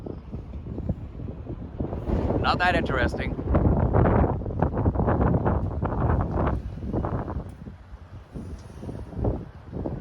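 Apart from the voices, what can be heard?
strong wind outdoors in Kumagaya City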